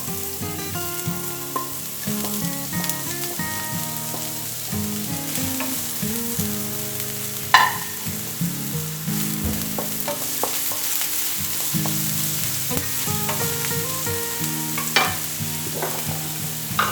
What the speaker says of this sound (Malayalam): എണ്ണ ചൂടായിട്ടുണ്ട്, നമുക്ക് അരിഞ്ഞു വെച്ചിരിക്കുന്ന സവോള ഇതിലേക്ക് ഇട്ട് കൊടുക്കാം.